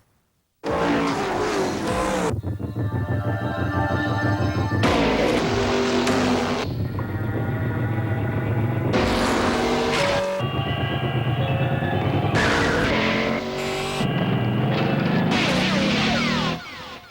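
Race cars roar past under loud engine revving and acceleration, with the full engine din rising and shifting steadily as the cars race, heard in a TV ad for a NASCAR team.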